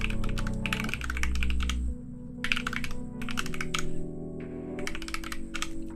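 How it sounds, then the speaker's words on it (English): A new mechanical keyboard fitted with Glorious Panda switches being typed on, producing loud, dense runs of clacking keystrokes broken by brief pauses, close to the microphone with no speech. "I swear I can type. This keyboard is too new."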